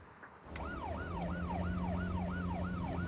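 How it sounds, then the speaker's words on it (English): Police car siren in the video game Zenless Zone Zero, a loud wailing up-and-down tone that starts abruptly and cycles steadily about twice a second over a low engine drone. "pubsec car hurtles down, sirens blaring"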